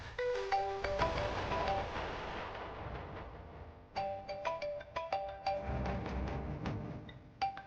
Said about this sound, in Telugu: ఎవరో ఏంటో ఆగకుండా రింగ్ అవుతూనే ఉంది.